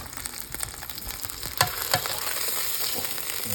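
A pork shoulder roast with a dry rub sears in a hot pan, giving a steady, close frying hiss with a few louder crackles and pops as the meat is turned.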